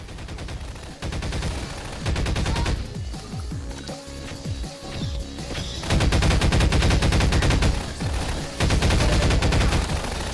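Rapid automatic gunfire rattles in bursts in the Half-Life mod Human Error, loud and close with staccato volleys, pauses and a dense final barrage, set over a game music soundtrack.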